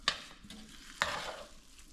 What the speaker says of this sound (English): Let's stir it in.